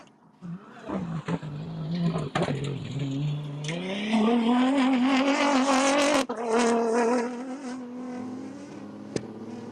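A Toyota Gazoo Hilux rally car launches from the start of a desert prologue, its engine rising from idle into a loud, climbing roar that holds through upshifts, heard close and then pulling away.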